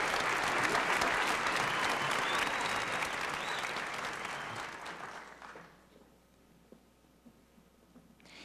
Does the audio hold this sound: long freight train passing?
no